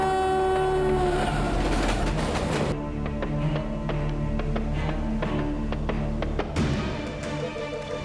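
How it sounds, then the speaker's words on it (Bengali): A train nears on railway tracks, its horn blaring loudly at first, then giving way to rhythmic clattering of wheels over rail joints that builds toward the end. "আরে বাপরে, ট্রেন আসছে ভাই।"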